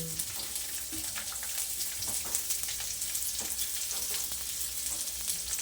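Okra sautés in a pan for adobong kangkong at okra, a steady close sizzle with faint crackles and spoon scrapes throughout, and no voices.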